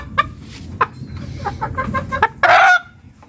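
Farm chickens cluck in short repeated bursts near the microphone, with a sharper louder squawk toward the end and faint bird chatter behind.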